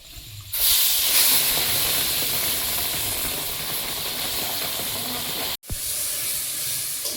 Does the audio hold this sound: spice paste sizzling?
yes